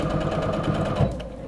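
A sewing machine runs briefly while stitching a handbag organizer, a close, rapid mechanical whir with a pulsing needle rhythm that fades slightly at the end.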